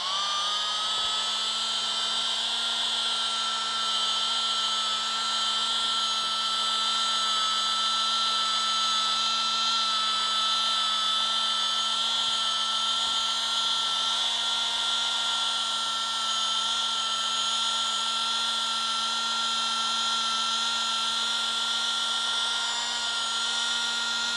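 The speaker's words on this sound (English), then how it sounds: "start polishing at a medium, low to medium pressure. And I'm using a 3800 RPM" A rotary polisher running at 3800 RPM buffs the finish of an electric guitar body, giving a continuous, steady high-pitched whine with a constant low hum, close and unbroken throughout with no talking.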